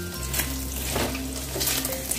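Ghee with whole cardamom, cinnamon and cloves sizzles in a pan, a steady close hiss of frying that runs unbroken through the whole moment.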